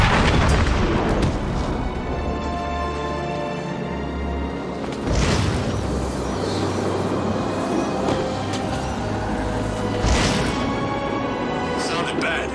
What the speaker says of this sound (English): Sounded bad. Yeah, like a bomb going off.